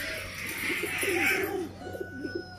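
A purebred pigeon from a Mian Nazir bloodline coos in soft, low repeated phrases, fairly close, with a brief pause before a second coo sequence; no one speaks over it.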